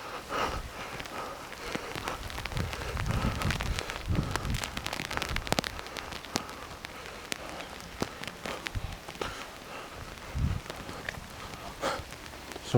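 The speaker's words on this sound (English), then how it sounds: "So the rain comes from right in front of me" Rain falls on a decaying slaughterhouse, scattered drips and patters striking surfaces at irregular intervals, with sharp close splats over a quiet, soft wash of background rainfall.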